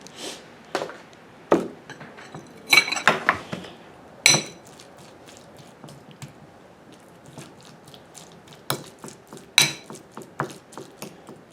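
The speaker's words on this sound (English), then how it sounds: "You need to add your lime juice, like half a spoon of lime juice. There, and mix it in." A spoon stirs lime juice into homemade guacamole in a bowl, giving scattered, irregular clinks and taps with soft mushy scraping between them, close by and unaccompanied by talk.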